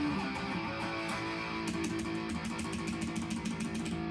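Electric guitar through the rear Wolfgang Special humbucker of a headless guitar, a sustained chord ringing steadily with repeated strummed or picked attacks in the second half, played alone with no talk.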